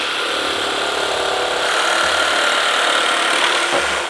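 A power saw cuts through a wood wall panel board for a small finishing piece, giving a steady, loud broadband whine that runs without pause from start to finish, with no talking.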